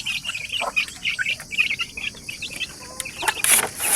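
Chickens cluck and chirp close by, a busy overlapping chatter of short calls with occasional sharper peeps.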